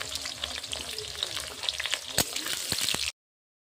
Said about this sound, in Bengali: আলুটাকে ভেজে হালকা করে ভেজে দিব